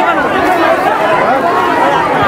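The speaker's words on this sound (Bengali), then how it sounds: "দেখুন, লোকের ভিড় দেখুন।" Dense crowd at the Agradwip Gopinath fair, a continuous loud wash of many overlapping voices and chatter close around, steady with no pauses.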